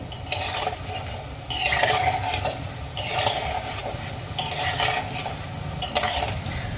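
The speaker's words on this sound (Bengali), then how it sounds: "কন্টিনিউ নাড়িয়ে চাড়িয়ে এই বলগুলোকে ভেজে নেব যাতে সমস্ত দিক একই রকমভাবে ভাজা হয়" Gulab jamun balls sizzle in hot oil while a spoon stirs them around the pan, with repeated scraping bursts at regular intervals over a steady frying hiss.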